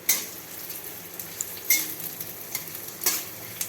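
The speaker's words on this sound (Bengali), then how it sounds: "একটু লাল লাল করে ভাজবো।" Onions fry in a pan with a low sizzle, punctuated by several sharp scraping stir strokes at uneven intervals, close and moderately loud.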